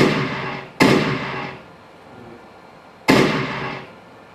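Two sharp, loud shots ring out in a full-size firearms training simulator, spaced a couple of seconds apart, each with a quick decaying echo in the room and no talk.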